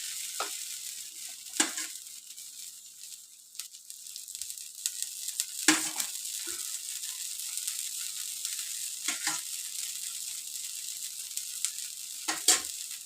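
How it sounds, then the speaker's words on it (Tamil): Adai dosa batter frying on a pan, a soft steady sizzle running throughout with occasional sharper crackles and clicks, close by and no talk. "எந்த அளவுக்கு மெலிசாக வேணுமோ அந்த அளவுக்கு தோசை சுட்டுக்கலாம்."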